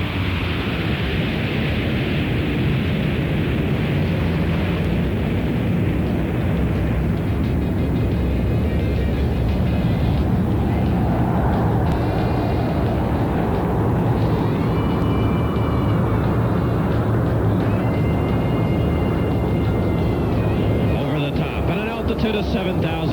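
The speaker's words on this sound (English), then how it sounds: "the power is eased as the aircraft round out the backside of this 5-plane line abreast loop." Blue Angels jets roar through a five-plane line-abreast formation loop at an air show, a loud, steady broadband rumble that swells and eases as power comes off, with a commentator talking over it throughout.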